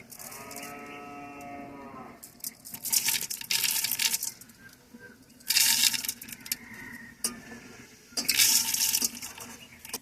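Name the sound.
pouring washed rice and lentils into the pot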